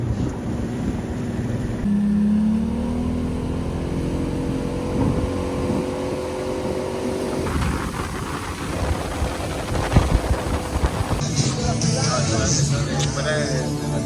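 A motorboat underway gives a continuous engine drone mixed with wind and water rush, steady and close throughout, while people talk over it.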